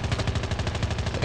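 Rapid automatic gunfire from the mobile shooter game Call of Duty Mobile, a fast, even burst of shots lasting over a second, loud and close with no voices.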